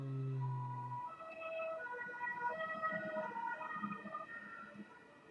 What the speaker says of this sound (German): Ist gerade ein Krankenwagen vorbeigefahren.